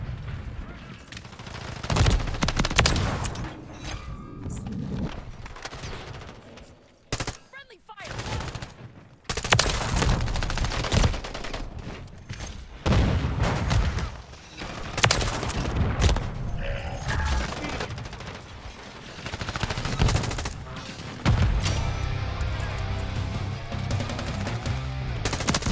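Rapid gunfire and explosions in Call of Duty: Modern Warfare III, in bursts, loud booms and crackling shots with brief lulls, continuing for a long stretch.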